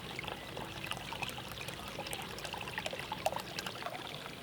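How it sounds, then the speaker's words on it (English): A bottle of rosé wine trickles and pours into a nearly full bowl of watermelon punch, a soft continuous liquid dribble with small splashes, fairly quiet and alone. "And I'm also going to be adding in 1 bottle of rosé wine."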